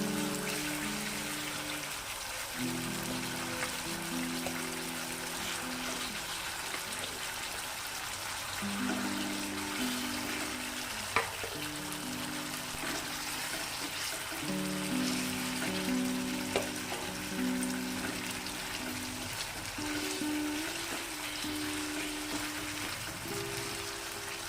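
Koi fish dropped into a pan of well-fried spice paste, giving a steady, crackling sizzle and spattering that runs on without voices.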